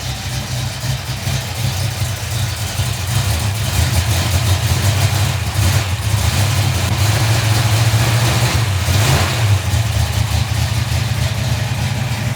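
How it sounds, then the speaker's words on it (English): Car engine idling, a loud, steady low rumble close by that grows slightly fuller partway through and holds even for over twelve seconds, with no voices. "listen to that idle"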